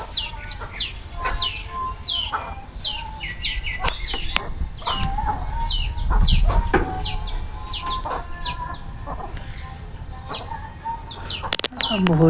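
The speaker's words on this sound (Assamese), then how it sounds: "চাওক কিমান মুৰ্গী" Chickens clucking near a rural Assamese home, a run of rapid, closely spaced clucks and short calls, near and fairly loud, with faint bird chirps and a few knocks underneath.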